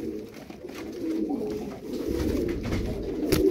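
Tumbler pigeons coo in soft, low, repeated throaty calls close by, layered over one another in a steady murmur with no talking.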